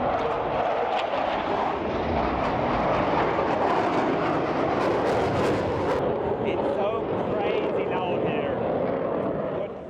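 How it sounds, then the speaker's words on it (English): A German-built Extra NG two-seat aerobatic airplane drones with a loud, steady engine roar that stays close and constant throughout, with a brief tonal change partway. "They have these awesome aerobatic planes."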